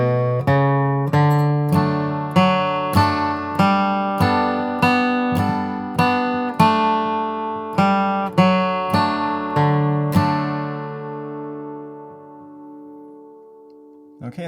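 A steel-string guitar picks out the bluegrass melody "Home, Sweet Home!", plucked notes ringing clearly one after another at an even pace, the last chord left to fade.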